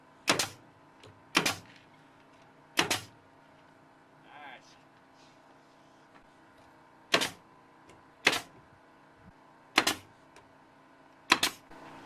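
A pneumatic brad nailer fires into plastic sheeting on a shade shed. There are seven sharp, close pops, some in quick pairs and others spaced a few seconds apart, over a low steady hum.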